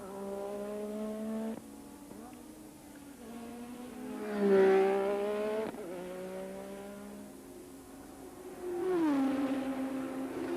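Racing cars at the Belgian Grand Prix at Spa-Francorchamps, including a 3.5-litre Lola, engines droning past at a distance with rising and falling pitch as cars sweep by, with two louder passes.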